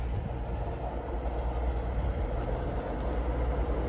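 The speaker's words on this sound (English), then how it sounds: "we have a cross-country Voyager" CrossCountry Voyager diesel unit 220018 passing at York station on the East Coast Main Line toward Newcastle, a loud, steady rumble with a low drone throughout and no talk.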